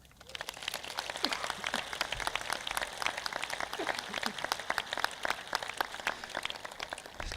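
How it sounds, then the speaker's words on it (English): Scattered applause from a graduation audience honoring the assistant principals, sparse individual claps at moderate distance, steady for several seconds with no talk. "I think we should clap for them"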